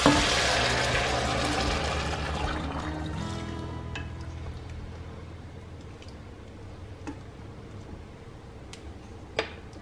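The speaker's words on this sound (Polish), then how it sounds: "I dodaję 1 litr przegotowanej wody." One litre of boiled water poured into a pot of Korean doenjang jjigae with beef and potatoes, a splashing gush for about three seconds that fades into quiet kitchen ticks and a few sharp clinks.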